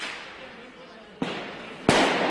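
During street riots in Exarchia, Athens, two sharp explosive bangs from fireworks or blasts ring out about half a second apart. A steady crowd and street roar fills the space underneath.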